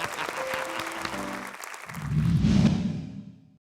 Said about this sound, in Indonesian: Ini tepuk tangan lagi dong sekali lagi.